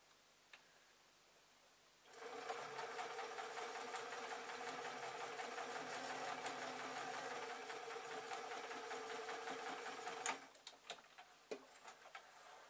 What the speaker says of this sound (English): I was going to sew up the sides